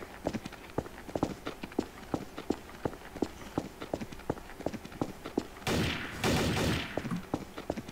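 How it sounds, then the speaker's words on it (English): Gunfire in Garry's Mod Trouble in Terrorist Town: evenly spaced single shots crack at a steady pace, with a louder burst of noise near the end. "Who's shooting?"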